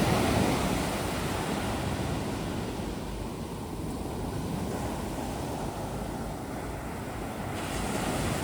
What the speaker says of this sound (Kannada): ಸೊ ಇದೇ ನೋಡಿ ಬೀಚ್, ಲೆಸ್ ಕ್ರೌಡೆಡ್ ಬೀಚ್.